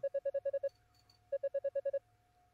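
A phone rings near the mic with two bursts of rapid electronic beeps, about seven tones each, separated by a short pause, over a faint steady tone.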